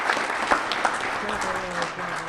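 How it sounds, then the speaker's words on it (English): An audience at a conference session on mobile security strategy applauds in a dense, steady wash of clapping, fairly loud, with a few louder claps standing out and a faint voice underneath. "Let's give Elisa, Rocky, and David a round of applause"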